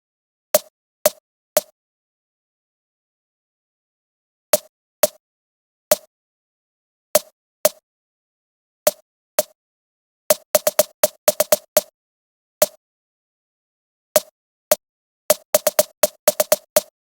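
Drum fill triggered from a MIDI sampler with edited hit velocities, sharp percussive hits in uneven groups, from single strikes to rapid rolls, played alone with silent gaps between phrases.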